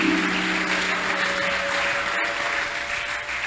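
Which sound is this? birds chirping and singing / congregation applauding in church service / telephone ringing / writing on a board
congregation applauding in church service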